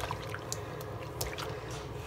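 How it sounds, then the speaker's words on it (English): Soft squishy toys get mixed by hand in soapy water, giving faint wet squelches and small drips that stay quiet and close, with no talk. "And then I just mix them together with the water."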